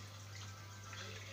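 Steady bubbling and trickling of aerated water in a home aquarium, a continuous close wash of fizzing with a low constant pump hum underneath, no voices.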